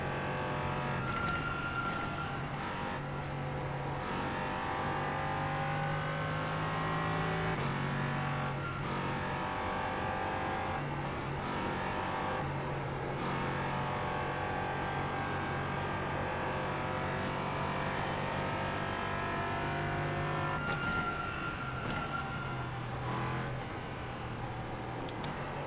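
NASCAR stock car on a hot lap in a racing video game, a sustained engine drone that rises and falls through gear changes and corners for the whole stretch, with no talking.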